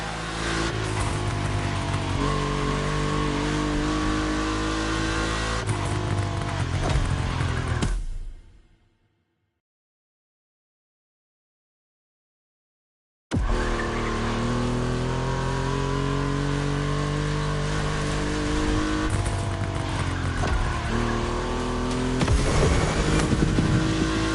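Volkswagen race cars in The Crew Motorfest accelerate hard on a track, their engines loud and climbing through the gears. The roar cuts to silence for about five seconds, then returns and continues at full volume.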